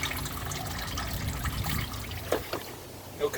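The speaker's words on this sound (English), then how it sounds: "Alright, gonna let this drip for a while." Water trickles and drips steadily from the engine bay of a 1997-2001 Jeep Cherokee XJ after power washing with degreaser, a soft continuous dribble with a few louder splashes toward the end.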